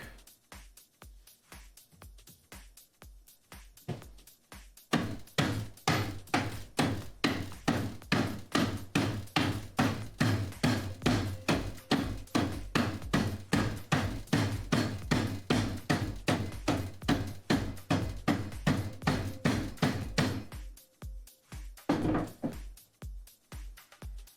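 A hammer repeatedly strikes ice to crush it for drinks, giving a long run of evenly spaced, sharp knocks at a steady beat. The blows are sparse at first, then fast and continuous, then slow again at the end.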